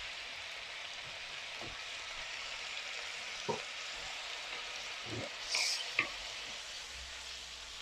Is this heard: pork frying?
yes